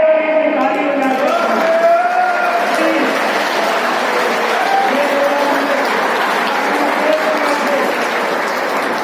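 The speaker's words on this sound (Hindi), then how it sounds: "तो आप एक बार खड़े होकर ताली बजा दो।" An audience gives a standing ovation at a one-day conference of a caste association in Bihar, steady loud clapping from a large crowd with voices calling out over it throughout.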